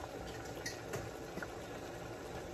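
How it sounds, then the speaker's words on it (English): Steady rolling bubbling of water at a boil in a pot, a constant broadband hiss with faint pops, close by and continuous with no talking. "Now that the water's boiling,"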